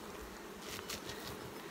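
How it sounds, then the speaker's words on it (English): Honey bees buzz softly in a bee yard on a warm day, a dense steady hum with a few louder passes as individual bees fly close by. "These bees are spreading their work corner to corner."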